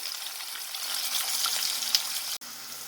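Onions frying in a pan of oil for a mutton curry, a continuous bright sizzle that holds steady throughout, with a brief break near the end.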